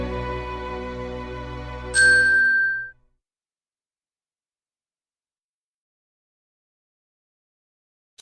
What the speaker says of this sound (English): When you hear this sound, turn the page.